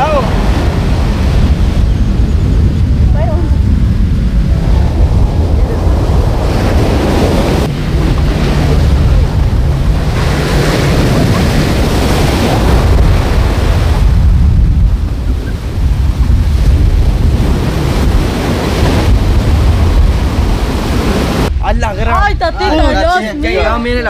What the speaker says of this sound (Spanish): Mire la gran ola, ve.